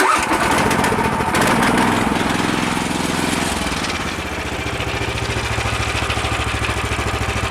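Petrol-powered hybrid walk-behind tractor engine starting with a burst, then running loud and close in a steady, throbbing idle that settles slightly lower partway through.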